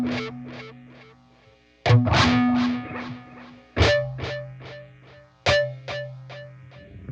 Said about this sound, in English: I'm gonna slap the strings hard, and you can hear it repeat.